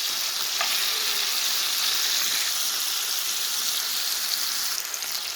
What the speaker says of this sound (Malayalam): അപ്പോൾ ചിക്കനെല്ലാം ഇട്ട് കൊടുത്തിട്ടുണ്ട്. അതൊന്ന് ഫ്രൈ ചെയ്തെടുക്കാം.